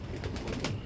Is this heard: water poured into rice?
no